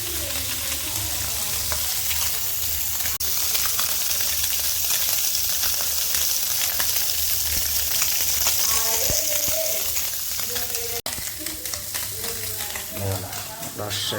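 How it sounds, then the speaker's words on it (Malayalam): Fish frying in a pan late at night, a steady loud sizzle running through the whole stretch with stirring clatter and a sharp knock near the end, while people talk over it. "നമ്മുടെ മീൻ വറക്കണ സൗണ്ട് കേട്ടിട്ട്"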